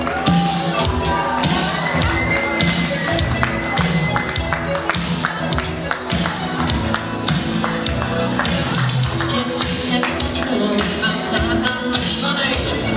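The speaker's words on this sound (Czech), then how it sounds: "Potlesky pro něj." Audience applause and cheering at a school graduation ball in Poděbrady, a loud, sustained crowd of clapping with scattered shouts filling the hall from start to finish.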